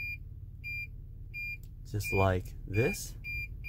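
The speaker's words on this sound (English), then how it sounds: "This over here is the parking sensors. So for example, I'm gonna put this car in reverse. You hear the beeping?" A 2020 Toyota Sienna Limited's parking sensor chirps in reverse, evenly spaced short high beeps repeating about every half second, faint against a quiet cabin, with someone speaking briefly over them.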